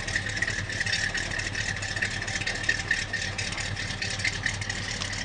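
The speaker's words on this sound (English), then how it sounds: "This car starts easy and it runs beautifully" Engine of a 1974 Plymouth Roadrunner idling steadily under an open hood, a close, even rumble with a light whirring rattle and no talking.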